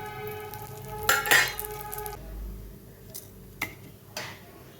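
Urad dal goes into a pan for pirandai thuvaiyal and is stirred. A dense rattling pour is followed by a few scattered scrapes and taps of a spoon against metal, fairly close, with no voices.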